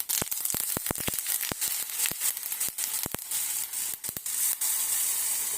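Jowar batter hitting hot oil in a pan, a loud crackling sizzle packed with rapid sharp pops and spits, dense at first and continuing steadily, with no voices.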